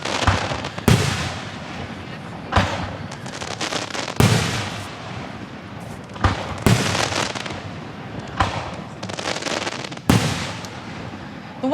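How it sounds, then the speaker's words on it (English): Fourth of July fireworks over Gettysburg, with sharp booming bursts every second or two across a steady crackling, rumbling background that stays loud and close throughout. "The one thing about fireworks in Gettysburg is they actually do last quite a long time."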